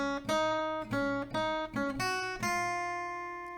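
The intro melody of a song is picked on an acoustic guitar, a short phrase of clear, ringing notes played close and alone, with the last note left to sustain and fade.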